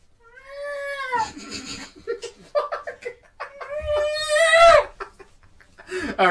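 A man meows loudly and profusely to imitate a cat, with drawn-out rising and falling yowls, while nearby people laugh and giggle between the calls.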